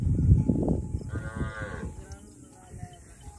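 Cattle low in a rural desert pasture after rain, a drawn-out moo rising over wind and faint background rustle.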